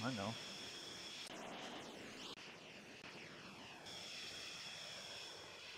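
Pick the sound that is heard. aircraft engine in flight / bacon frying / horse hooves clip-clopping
aircraft engine in flight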